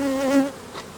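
Honey bees buzz at an open hive during removal of emptied honey supers, a steady close drone with a harmonic tone that swells, then thins to a lighter hum over a single second.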